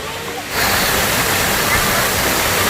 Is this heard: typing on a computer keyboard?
no